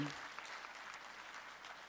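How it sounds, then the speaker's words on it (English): Audience at a forum opening ceremony applauds, a short, faint but steady wash of clapping heard from a distance without talk. "Give yourselves a big round of applause, bright and early."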